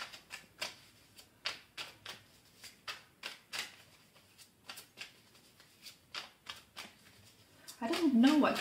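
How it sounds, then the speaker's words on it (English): Tarot cards are shuffled in a brisk rhythm of soft riffling snaps, close and quiet, repeating roughly twice a second before a voice starts speaking at the end. "Look how long it's taken to shuffle the deck."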